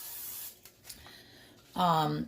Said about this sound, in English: I'm just going to spray this just to get the bottom